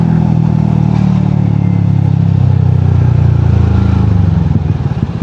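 A Yamaha Aerox V1 motor scooter runs at a steady mid-pitched drone while riding, loud and close throughout, its engine note holding fairly even with a slight rise and then easing off near the end.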